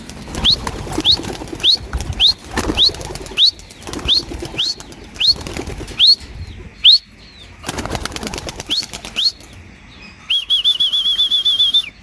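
Racing pigeons take flight, with repeated bursts of wing flapping, whistling wing swishes and clatter close by, followed by a short run of rapid flutter near the end, with no talking.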